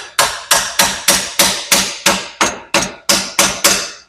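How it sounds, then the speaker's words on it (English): A hammer strikes a flange on a 3D-printed intake elbow of a budget turbo Mustang about a dozen times. The blows are sharp, loud and close, in a steady rhythm of roughly three per second. "Gotta tap that flange because it's this side of the flange is in a bind"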